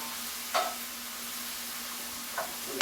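Spinach stirred into sizzling onions and mushrooms in a pan for a savory spinach quinoa dish: a faint, quiet sizzle with two or three brief spoon scrapes or knocks, close but soft.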